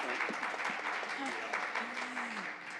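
Applause for speakers taking their seats at a social development and inclusion panel, a steady wash of clapping with a voice talking over it throughout.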